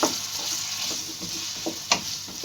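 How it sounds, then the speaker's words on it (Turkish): Cubed beef sizzles in a hot pan, steady frying hiss broken by a few scraping stirs and clinks, close and clear. "Biraz da bu şekilde kavuruyoruz"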